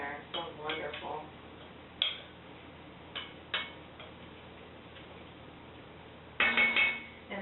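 A lid is set back onto a pot of creamy carrot ginger soup, leaving it partly open. A few faint kitchen clinks come first, then one louder ringing metallic clatter near the end, in a quiet room.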